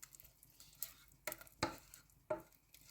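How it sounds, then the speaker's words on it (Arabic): Croquette mixture poured and scraped from a pot into a plate, giving a few soft, close scraping and spooning strokes with brief clinks at an uneven pace, fairly quiet, with no voices. "وغادي ناخذ شي طبسيل وغادي نخوي الخليط ديالي"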